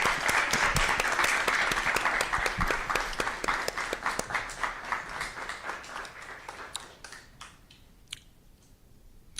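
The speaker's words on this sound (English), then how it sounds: "A round of applause." An audience at a school district governing board meeting claps for students, a brisk crowd applause that holds strong for several seconds, then thins and fades to a few scattered claps.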